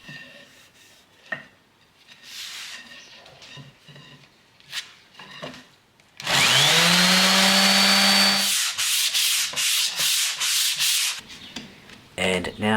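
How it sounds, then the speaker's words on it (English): An electric sander smooths saw marks out of a piece of wood, starting with a few scattered knocks and scrapes, then a loud close whir for about two seconds, followed by bursts of grinding sanding. "I'll try and smooth these out with the sander"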